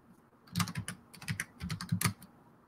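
Rapid typing on a computer keyboard, several quick bursts of sharp key clicks close up, separated by brief pauses, with no talking.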